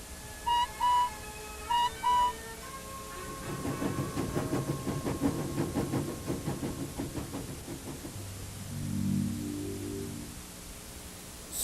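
A cartoon steam engine chuffs along through countryside, a rhythmic run of steady puffs building after a few short whistle-like tones, then settling into a low rumbling hiss toward the end.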